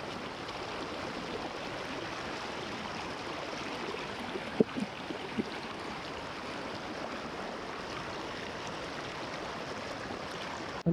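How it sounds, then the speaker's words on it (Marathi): Strong floodwater rushing through a stream during heavy monsoon rain, a steady dense roar of flowing water close by, with a couple of faint knocks midway. "पाण्याचा प्रेशर पण मित्रांनो भरपूर आहे इथे."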